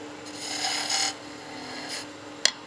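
A skew chisel's long point cuts into spinning wood on a lathe, giving a soft raspy scraping that swells and fades in short passes, ending with a small sharp tick.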